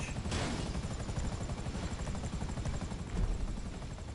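A helicopter in the video game GTA Online whirs with a steady low rotor chop, loud and close, holding constant with a brief swell near the end and no talk over it.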